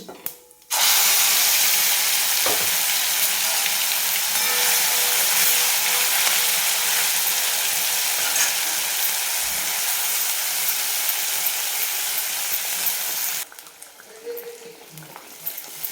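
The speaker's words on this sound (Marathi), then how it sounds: "याला मिनिटभर आपण छान परतून घेणार आहे तेलामध्ये" Ground spice paste for a ridge gourd curry fries in oil over a low flame, giving a loud, steady sizzle that starts abruptly and holds for about thirteen seconds before cutting off, leaving quieter kitchen sounds.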